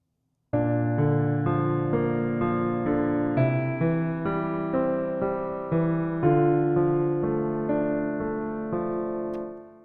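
Solo piano plays the opening chords of a ballad as a slow progression of rich, sustained chords struck one after another, resonant and close, with no talking.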